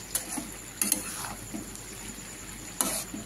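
Lotte (taro stolons) with prawns fry slowly in a pan: a soft, low sizzle runs throughout, broken by a few sharp clicks and scrapes of stirring that come in short bursts.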